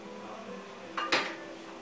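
A metal spoon is lifted out of a pan of carrot cake syrup, giving two quick close clinks against the pan over a quiet kitchen background.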